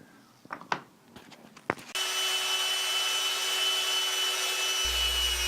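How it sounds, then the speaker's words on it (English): A few wooden knocks and scrapes come first, then a power sander starts up close and runs with a steady, loud whine while wooden dowels are shaped on it. "So here we'll shape the dowels after we've turned it into kind of like a peanut body shape on the sander"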